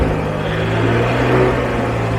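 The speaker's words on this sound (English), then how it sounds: "Let's see if it will rev." A 1990s tow truck engine, running rough and idling high while cold, hums and rumbles steadily up close, with a faint rise in engine note partway through and no voices.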